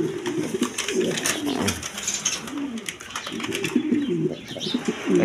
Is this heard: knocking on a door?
no